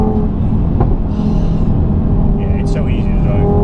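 A Mk3 Audi TT RS with an MRC Stage 2 tune driving hard, a loud steady engine drone inside the cabin with brief chirping turbo flutter bursts, while voices talk over it.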